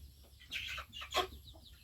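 A few chickens cluck in short, uneven bursts nearby, with quiet pauses between the calls.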